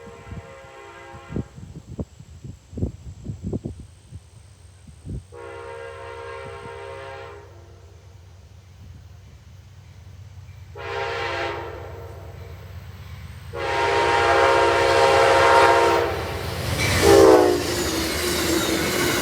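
Amtrak 87, a passenger train, rolls through Kirkville, New York, sounding its horn in several blasts. Early short honks give way to long sustained chords that grow louder as the train nears, over a rising rumble of passing cars.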